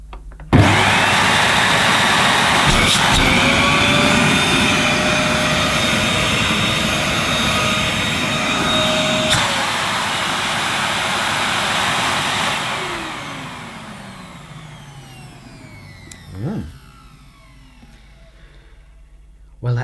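A compact Electrolux Xio vacuum cleaner switches on and runs with a loud, steady high-pitched whine and rushing air, then winds down as its motor spins to a stop, no talk.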